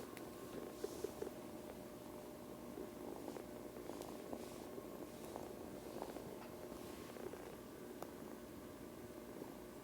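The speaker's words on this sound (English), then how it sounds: "It's kind of a quiet purr because she's a tiny kitten still." A small kitten purrs softly and steadily, a faint rhythmic rumble close by in a quiet room.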